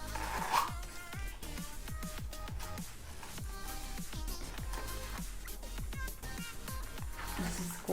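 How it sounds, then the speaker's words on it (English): Zipper on a Louis Vuitton-style wallet being opened, heard as a long run of close, scratchy zipper pulls repeating steadily for several seconds without talk. "And then the zipper."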